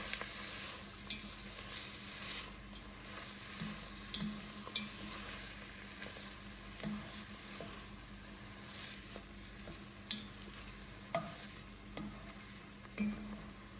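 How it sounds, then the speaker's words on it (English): Half an onion cooks down in a pan for broccoli cheddar soup, giving a faint, steady sizzle with occasional soft stirring scrapes and pops throughout, no talking. "So we're gonna go ahead and add our half an onion. We're gonna go ahead and cook those down."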